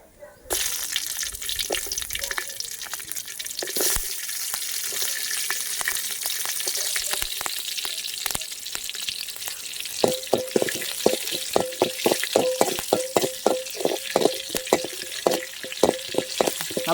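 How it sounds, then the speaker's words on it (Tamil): Green chillies and mustard seeds sautéing in peanut oil in a village pan for a country crab gravy, a steady crackling sizzle with frequent sharp pops and spatters growing busier toward the end. "நல்லா வதங்கட்டும் பச்சை மிளகா."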